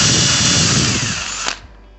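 A power drill bores a hole for a DIY boat cover support pole, a loud steady whine running for about a second and a half before it cuts off abruptly and spins down, close to the listener with no talking.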